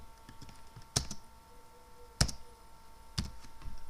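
Keys on a computer keyboard pressed in a few separate, fairly sharp clicks with pauses between, close and clear, with no talking.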